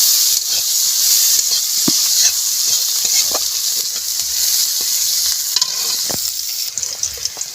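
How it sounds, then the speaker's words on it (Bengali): Chopped onion and a bay leaf fry in hot oil with cumin and whole chilies in a pan over a wood-fired stove, giving a continuous close sizzle and hiss broken by scraping stirs. "এবারে দেব তেজপাতা দেব পেঁয়াজ কুচি। একটুখানি পেঁয়াজটা কষিয়ে নেব।"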